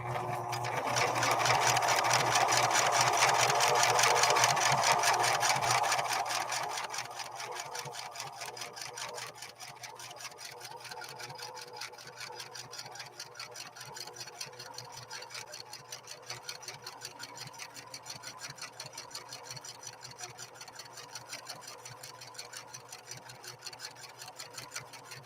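A Singer 6215C sewing machine stitches a 3-point zigzag on fabric close up, with a steady rapid mechanical chatter that is loudest for the first six seconds and then continues at a lower, even pace.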